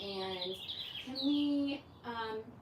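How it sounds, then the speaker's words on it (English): Birds chirp in short, bright bursts, a few clear tweeting calls with brief pauses between them, faint and in the background of an indoor setting without speech over them. "those birds are intense"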